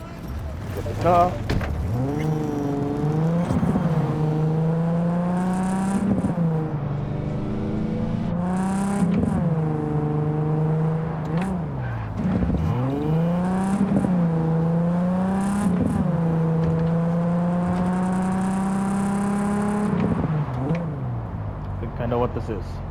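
Car engine in the video game Cyberpunk 2077, a steady droning hum that swells and dips in repeated revving surges, with a few sharp clicks between them.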